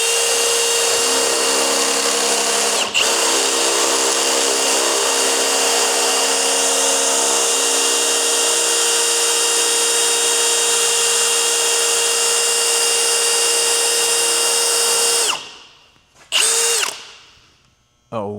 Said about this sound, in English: drilling right through that ball joint